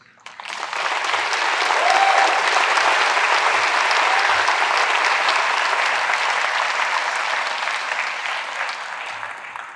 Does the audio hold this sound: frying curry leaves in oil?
no